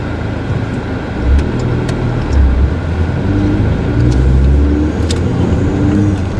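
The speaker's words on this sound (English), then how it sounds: "the speed racer comes flying through here" A car speeds past on a road near the Boeing company, its engine a loud, steady roar that swells as it passes close by, with traffic rumbling underneath throughout.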